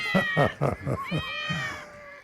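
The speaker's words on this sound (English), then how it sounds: "Ollie is a kitty cat for you folks that don't know Ollie" A pet cat meows during a live car-talk stream: someone talks first, then a drawn-out, rising and falling meow comes through clearly after him, moderately close.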